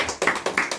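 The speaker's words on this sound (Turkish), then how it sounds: "Şimdi şampiyonları alkışlıyoruz tekrardan." Children's group applauding the champions at a small celebration, a few bursts of close hand claps in uneven rhythm over a short moment.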